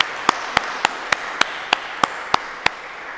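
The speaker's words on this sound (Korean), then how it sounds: "우리 박수로 다시 한번 환영하겠습니다." A church congregation at a Sunday service claps in welcome: about ten sharp, evenly spaced claps in a steady rhythm, close and distinct over a quiet background.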